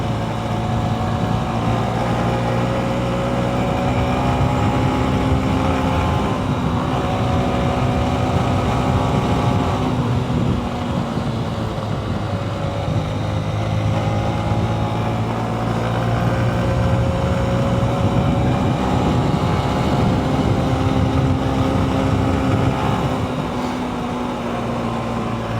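A Honda CB125F motorcycle rides along a small road, its little engine droning steadily and loudly for the whole stretch, the pitch rising and falling gently with the throttle amid wind noise.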